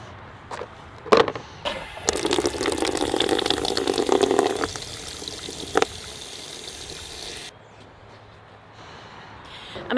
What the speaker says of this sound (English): So I'm gonna take this over here to the spigot, fill it up, and go water those plants.